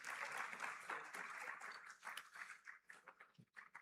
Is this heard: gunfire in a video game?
no